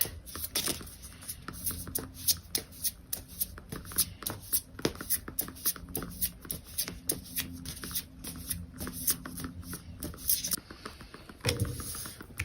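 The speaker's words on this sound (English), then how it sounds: "we're gonna shuffle just to make sure" A deck of tarot-style oracle cards being shuffled for a card reading, a continuous close riffling patter of cards lasting several seconds, with no talk.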